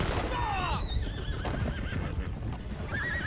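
A Norfolk Roadster horse in Red Dead Online lets out a loud whinny with hoofbeats and game sounds behind it, then a shorter neigh near the end.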